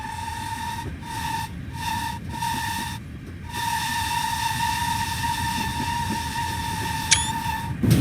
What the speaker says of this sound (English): as good as these Victory Works Pannier tanks are, I still don't really like that whistle sound